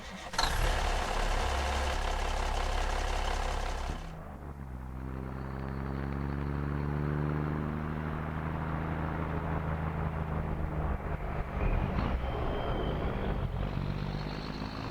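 A US Army vehicle engine in the game Squad, first a loud steady rumble, then settling into a deep droning idle with rising and falling tonal whine, continuous and alone.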